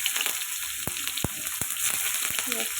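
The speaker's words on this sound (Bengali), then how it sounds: "কড়াইয়ে ফোড়নে দিয়ে দিব এখন আমি কালো জিরে," Nigella seeds and green chillies sizzle in hot oil in a wok used to fry fish, giving a steady close hiss with a few sharp pops and crackles.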